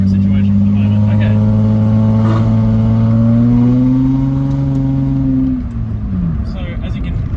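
A 1999 Lexus ES300 (XV20) with a resonator delete and a MagnaFlow sports muffler revs loudly up close, its exhaust note rising in one long steady pull before the revs drop back down.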